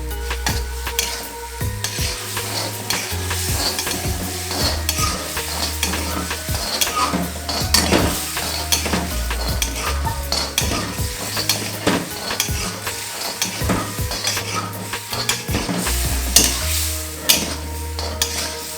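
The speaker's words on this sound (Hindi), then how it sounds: "इस वक्त मेरा फ्लेम बिल्कुल हाई है और इसमें मैं इसकी कुकिंग कर रहा हूँ।" Minced keema frying on a high flame, sizzling steadily throughout while a spoon stirs and scrapes the pan with frequent sharp clinks; the cooking is close and loud, with no talking.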